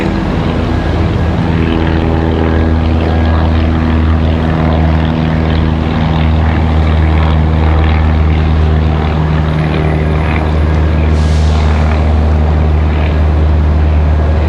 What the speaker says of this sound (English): I think that's one of the flight school planes there.